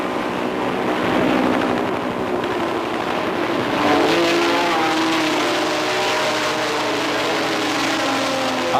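Jaguar E-Type and rival race cars roar continuously in a Gran Turismo race, engines droning loud and close with shifting pitch as they accelerate through the corners, no voices over them.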